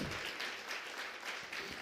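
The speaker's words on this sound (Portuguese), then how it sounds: "Você pode aplaudir ao Senhor." Congregation applauding in a church service, a brief, even wash of many hands clapping at low volume without a break.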